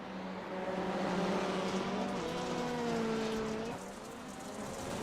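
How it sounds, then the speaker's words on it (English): Rallycross race cars in the iRacing sim roar past in a pack, engines rising and falling in pitch as they accelerate, fairly loud and continuous with no commentary over them. "Kieran Liflin, the only car that has jokered on the first time of asking"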